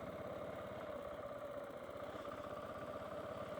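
The engine of a 2017 KTM 690 motorcycle rumbles in a steady low thump with the throttle closed, sounding moderately near and even, with no talking over it.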